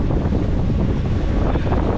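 Steady wind roar and sloshing waves buffet a sailboat at sea off Catalina Island, making a loud, continuous broadband rush with no voices.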